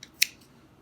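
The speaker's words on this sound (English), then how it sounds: "And you can snip that." A single sharp scissor snip cutting through a strand of yarn, quiet and close, with a soft faint rustle just after.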